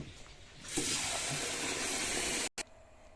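Rice being washed in water, with a loud rushing, splashing flow that starts abruptly and runs steadily, then cuts off briefly near the end; nearby and without speech.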